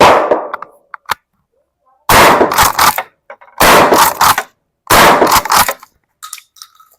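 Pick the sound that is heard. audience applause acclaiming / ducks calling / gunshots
gunshots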